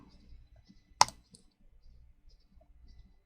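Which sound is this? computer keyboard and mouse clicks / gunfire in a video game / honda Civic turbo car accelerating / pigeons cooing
computer keyboard and mouse clicks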